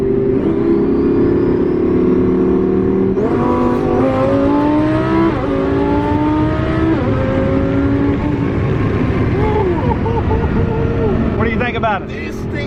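A 1500-horsepower twin-turbo Lamborghini Huracán built by SheepeyRace drives in Corsa mode. The engine roars loudly from inside the car, with rising revs and abrupt gear shifts, while a voice is faintly present underneath.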